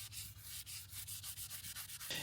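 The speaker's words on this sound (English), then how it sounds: "I started sanding down the high spots and slowly worked the repair flush with the original surface." Fiberglass repair on a Casita travel trailer is sanded by hand, with a steady run of rhythmic rubbing strokes, close and moderately quiet, with no talk.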